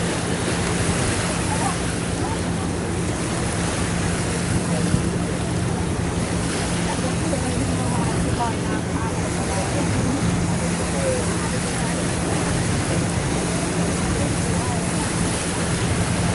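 Pacific Ocean surf and wind rush around a harbor cruise boat at a bay entrance, a continuous broad wash with engine hum and buffeting wind noise underneath.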